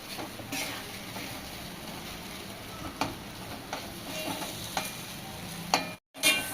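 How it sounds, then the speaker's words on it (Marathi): Grated raw potato stir-fries over a low flame in a pan, a soft steady sizzle broken by occasional scraping stirs of the spatula, close and quiet with no talk. "आणि एक ते दोन मिनिटासाठी असं परतून घेऊया आणि गॅसची फ्लेम कमीच ठेवायची आहे असा बटाटा परतून घेतला की"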